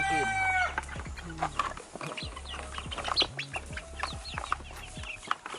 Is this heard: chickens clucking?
yes